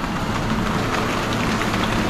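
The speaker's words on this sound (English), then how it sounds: "we got quite a bit of rain" Steady rain falls on a rural homestead, a dense, even hiss of drops on surfaces with no pauses and no voices.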